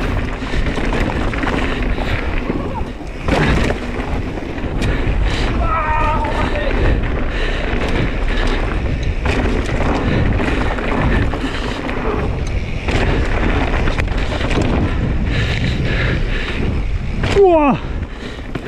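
Wind buffets the microphone in rough, roaring bursts over outdoor noise at a mountain bike trail park, with a loud gust swelling near the end.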